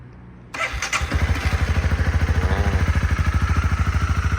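A 2018 Honda CB300R motorcycle with about 18,000 km cranks briefly after a moment of quiet, then catches and settles into a steady, even idle thumping close by, with no talking.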